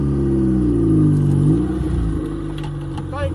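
An ATV with a 90-horsepower engine revs hard on a running start up a hill, a loud steady rumble that swells and then sags as it strains, with a faint rattle near the end.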